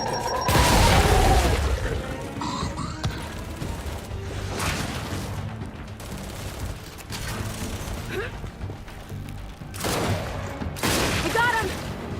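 A frag grenade is thrown and bursts with a heavy boom in Gears 5, followed by scattered gunfire and further blasts, while voices shout over the combat.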